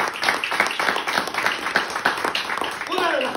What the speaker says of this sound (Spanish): Dele fuerte aplauso a Él.